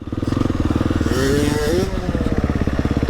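Freestyle motocross motorcycle at a jump ramp, engine running loud and close with a rapid, pulsing throb that swells as it revs, while people talk over it.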